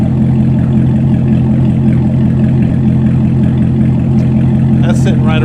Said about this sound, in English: 2016 Corvette Stingray with no mufflers.